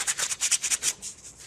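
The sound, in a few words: sanding sponge sanding resin model kit part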